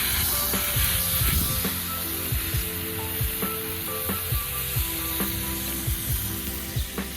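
Corn roasts over a Filipino-style barbecue grill, giving a continuous close sizzle dotted with sharp crackling pops, with no one talking.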